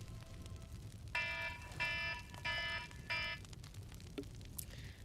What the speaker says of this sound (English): That's my alarm to remind me to take out the garbage.